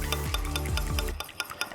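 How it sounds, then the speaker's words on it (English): Cookie dough with vanilla extract is mixed in a bowl, a quick run of rhythmic, sticky stirring strokes close up, then a few lighter scrapes as the mixing slows. "And just keep mixing that in."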